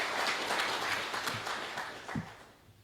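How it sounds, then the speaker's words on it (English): Applause from an audience at a city's State of the City address greets a newly introduced fire chief, a broad wash of clapping that is moderately loud at first and gradually fades toward the end. "Give him a round of applause, sir."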